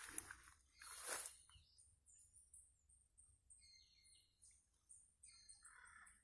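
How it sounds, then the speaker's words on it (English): Wild birds call outdoors in nature, with bright, high chirps and trills scattered through the quiet, a loud burst near the start and later overlapping calls at moderate distance. "I'm gonna take you in the heart of the noise of the bird."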